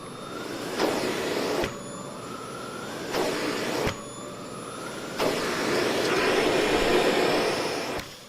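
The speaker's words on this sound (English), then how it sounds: "This vacuum performs much better than my previous one in corners and crevices, mainly due to its power." A Dyson Big Ball multifloor canister vacuum cleaner runs with a steady whooshing roar. Its pitch and loudness shift abruptly several times as the nozzle moves across surfaces.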